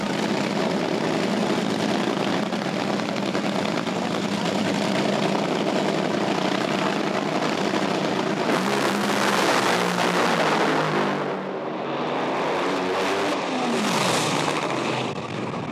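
A Top Fuel drag racing car engine at a grand final meeting at Adelaide International Raceway roars loud and continuous, swelling to a harsher, sweeping blast midway before easing back, with no talk over it.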